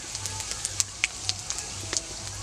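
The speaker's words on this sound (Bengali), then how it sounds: "তেলটা গরম হয়ে গেছে এতে আমি দিয়ে দেব গোটা জিরা একটা তেজপাতা একটা শুকনো লঙ্কা" Whole cumin, a bay leaf and a dried red chilli are dropped into hot oil, giving a close, light crackle of scattered pops over a faint low hum.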